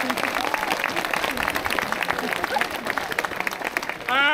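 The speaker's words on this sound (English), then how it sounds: "a big round of applause for Archie" An outdoor street crowd at a St Piran's Day event in Penzance, Cornwall applauds continuously, with dense, steady clapping and a few voices mixed in.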